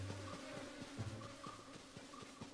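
Bees buzz in Zelda: Tears of the Kingdom as a low, steady droning hum with a wavering pulse, fairly quiet against the game's ambience, ending in a short sharp thump.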